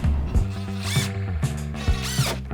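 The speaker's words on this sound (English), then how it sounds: "We pre-drill holes on every edge of each board before drilling screws to prevent the board from splitting." Power drill pre-drilling holes along the edges of deck boards during a patio deck replacement, whirring in several loud bursts of high-speed spin with a rising and falling pitch as the bit runs up and bites into the wood.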